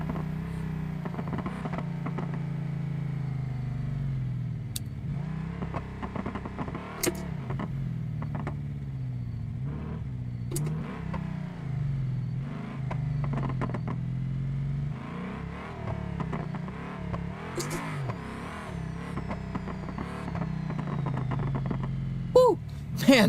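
A steady video game car engine drone with revving swells from the exhaust, running continuously with brief sharp clicks and shifts throughout.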